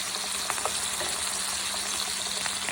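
A prime rib searing in a hot pan gives off a steady, fairly quiet sizzle with a few faint pops and crackles, with no voices over it.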